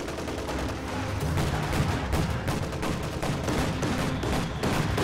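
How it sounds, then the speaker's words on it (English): A video game battle roars with artillery and massed gunfire, a dense, loud, continuous barrage of overlapping shots and blasts with no pause. "Artillery batteries are armed and ready to fire. Contact the enemy fire!"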